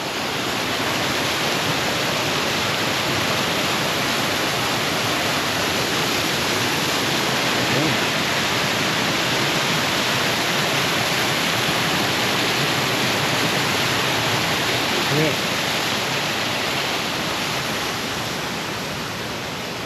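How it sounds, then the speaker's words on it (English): A trailside waterfall near Burgoyne Bay on Saltspring Island pours in a steady, dense rush of white water after rain, loud and unbroken for the whole stretch. "A trailside waterfall"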